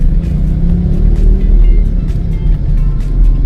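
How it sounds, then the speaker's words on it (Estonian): Cars creep through slow, congested road traffic on Cebu island in the Philippines, with motorcycles weaving past; a steady, close low engine rumble drones on without a break. "Auto on ees, asi kuidagi ei liigu."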